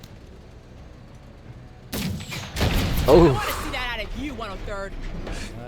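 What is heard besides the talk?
explosion in the video game MENACE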